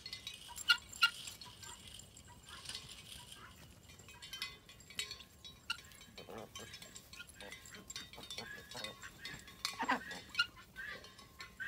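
A goat bleats faintly a few times as Bruno the Rottweiler works it off a fence, while a man calls out commands to the dog over scattered clinks and outdoor noise.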